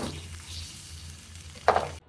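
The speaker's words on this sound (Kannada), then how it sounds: "ಸ್ವಲ್ಪ ಖಾರದ ಪುಡಿ, ಉಪ್ಪು ಇಷ್ಟನ್ನು ಹಾಕ್ಕೊಂಡು ಪ್ಯಾನ್ ಮೇಲೆ ಹಾಗೆ ಸ್ವಲ್ಪ ಫ್ರೈ ಮಾಡ್ತೀನಿ" Paneer frying in a pan with chili powder and salt gives a low, steady sizzle throughout, with a brief brighter crackle or stir near the end before it cuts off.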